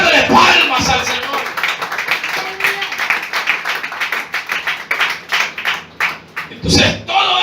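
A church congregation claps hands in rhythmic, steady applause as an offering of praise, with a voice talking loudly over the clapping.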